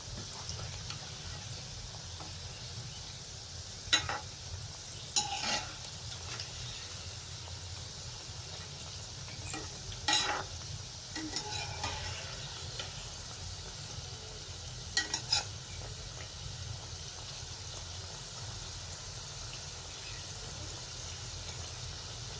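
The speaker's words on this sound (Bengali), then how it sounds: "এবার আমি উল্টে পাল্টে এগুলোকে ভেজে নেবো" Sweet gaja pastries sizzle steadily in hot oil, with a few sharp scrapes and clinks from stirring at irregular intervals.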